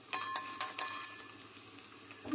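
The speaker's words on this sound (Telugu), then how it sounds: "మంచిగా అన్ని వైపులా ఫ్రై అయ్యేలా చూసుకోవాలండి." Paneer pieces frying in oil in a pan, a steady soft sizzle with a few sharp clinks of a utensil against the pan early on, close and fairly quiet with no talking.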